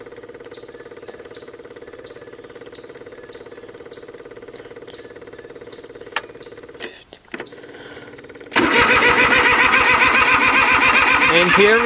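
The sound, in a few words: Cub Cadet 1512 tractor engine cold starting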